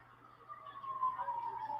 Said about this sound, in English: Pretty convenient time for the sirens to go off